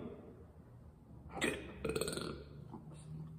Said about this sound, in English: That must mean it's good when you belch.